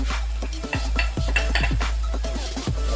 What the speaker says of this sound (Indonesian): Kemudian kita masukkan cabai giling ya